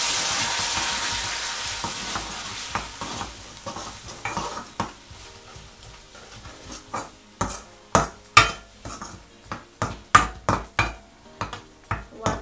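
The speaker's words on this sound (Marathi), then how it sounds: "आता गॅस कमी करून त्याच्यात वाटण टाकायचंय." Ground masala paste for Malvani tomato saar sizzling in a hot pan, stirred with a utensil in a steady run of sharp scraping clicks over a continuous frying hiss, close and clear with no talk.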